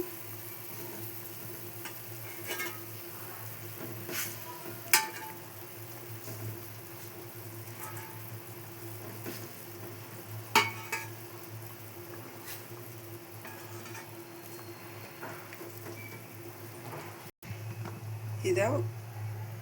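Egg curry simmering in a pan with oil in a South Indian home kitchen, a low continuous bubbling sizzle with occasional stirring clicks and a steady hum underneath.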